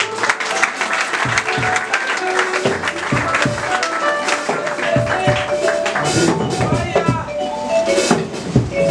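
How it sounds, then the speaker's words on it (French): Church congregation applauding during a consecration-day service, a dense, lively burst of hand claps that fills the space with voices mixed in throughout. "applaudissez pour la gloire de Dieu."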